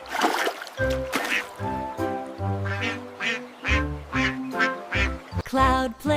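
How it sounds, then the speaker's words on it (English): Repeated duck quacks in a lively, irregular series, close and clear, with brief splashy water sounds in between. "Duck says quack, quack,"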